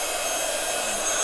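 A heat gun blows continuously at close range while drying the edge of a card, a steady loud whooshing roar with no pauses.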